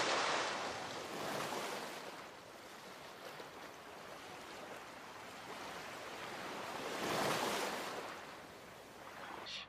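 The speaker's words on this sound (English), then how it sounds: "it was completely silenced except for the sound of the water" Ocean water washes onto a shore in a film scene, a soft steady hiss of surf with two gentle swells rising and fading, faint and distant with no voices.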